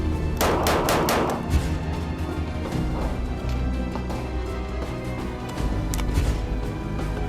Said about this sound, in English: first I'm gonna shoot the store-bought vest to see how it holds up against a barrage of bullets